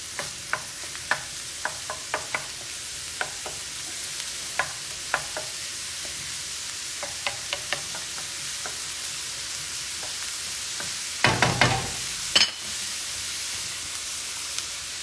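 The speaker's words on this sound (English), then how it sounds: "I'm just sweating the onion a bit." Onion sweats in a pan for meatball sauce, a soft continuous sizzle broken by sharp utensil taps and stirring clicks, then a louder burst of scraping near the end.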